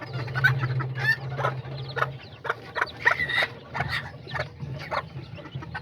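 Azteca roosters, hens and small chicks cluck and peep in a backyard flock, with a steady low clucking drone and repeated nearby chick chirps and short calls throughout.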